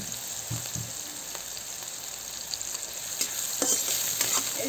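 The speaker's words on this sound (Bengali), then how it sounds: "পেঁয়াজটা ভালো করে লাল লাল করে ভেজে নেবো।" Chopped onions sizzle and fry in hot oil in a pan until browned for a Bengali prawn curry, a steady close crackle with a few stirring scrapes and no talking.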